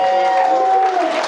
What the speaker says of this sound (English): A round of applause for Martin, everybody.